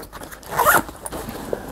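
The zipper of an Alpaka Bravo tote bag gets one quick, scratchy pull lasting under half a second, close and clear, followed by faint handling rustle.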